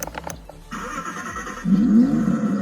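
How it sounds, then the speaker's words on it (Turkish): A Mercedes GLA ride-on toy car plays its electronic engine sound effect: a few clicks, then a simulated start that swells into a loud, rising revving hum, heard close up. "Araba çalışma motor şeklinde gördüğünüz gibi o şekilde aynı sesle çalıştırıyor."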